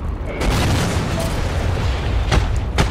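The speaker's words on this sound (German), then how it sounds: "werden wir hier gerade von einem Panzer bearbeitet?" Tank shells explode in the video game Heroes & Generals. Heavy booms and rumbling blasts sound up close, with sharp bursts near the start and again toward the end.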